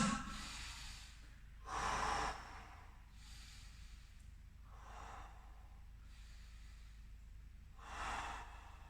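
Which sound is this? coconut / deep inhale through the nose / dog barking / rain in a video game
deep inhale through the nose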